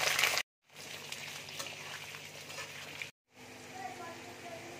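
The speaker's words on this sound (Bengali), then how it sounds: "তেল দেখো গরম হয়ে গেছে। এবার আমি গরম মশলা ফোড়ন দিয়ে দিচ্ছি। এবার দেখো আলুটা দিয়ে দিচ্ছি" Potatoes dropped into hot oil tempered with garam masala, a steady crackling sizzle broken by two brief silent gaps.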